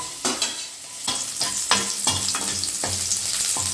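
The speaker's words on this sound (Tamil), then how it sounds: "10 பல் பூண்டு வந்து லேசாக தான் தட்டி வச்சுருக்கேன் நான் தோலோட. அதை வந்து சேர்த்து வறுத்துக்கலாம்." About ten lightly crushed, unpeeled garlic cloves fry in hot oil for kaara pori, with a loud, close sizzle broken by repeated scraping stirs and knocks in a loose rhythm.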